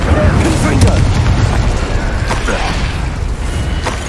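Confringo blast spell from the video game Hogwarts Legacy: a loud, dense rumbling boom with creaking, mechanical crackle that holds steady for several seconds.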